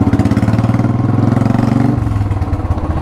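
A Royal Enfield motorcycle engine idles in heavy city traffic, a loud, steady thumping pulse close by with a slight dip in pitch partway through.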